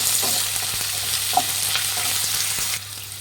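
Three medium onions, sliced lengthwise, fry with a steady loud sizzle in a pan while the lima bean upma cooks, with a few stirring scrapes and a brief clink partway through.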